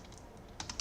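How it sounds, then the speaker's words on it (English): Computer keyboard keys click in a few quick, light taps on a typing practice website, soft and close over a faint room hiss. "you can go to monkey type and you can start typing over here"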